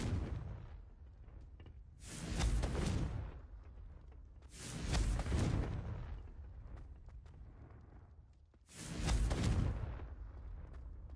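Three big, roaring blasts from the Confringo spell in a Hogwarts video game, each a booming explosion with a whooshing tail, spaced a few seconds apart over a steady low rumble, with no talking.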